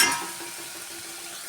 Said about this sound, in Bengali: এখানে হলুদ গুঁড়ো দিয়ে আমি ভালো করে কষিয়ে মাংসগুলো দিয়ে দেব।